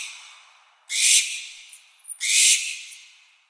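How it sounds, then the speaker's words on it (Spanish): An owl calling at night in the hills gives two long, harsh, hissing screeches, loud and close, separated by a short pause. "tú escuchas a un búho o a una lechuza gritar o reírse en el monte de noche"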